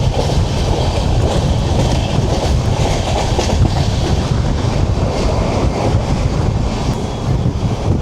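The Darjeeling Mail, train 12343, runs through Bally station, heard from on board. A loud, continuous rumble of wheels and clattering carriages mixes with heavy wind rush and never lets up.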